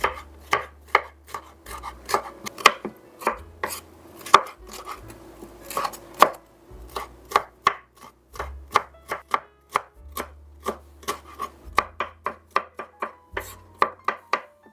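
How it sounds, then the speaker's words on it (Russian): A knife chops two bell peppers, one red and one orange, into small pieces on a cutting board, giving a steady run of crisp, loud, closely spaced chops with brief pauses and no talk. "Небольшими кусочками порежу 2 болгарских перца, красный и оранжевый."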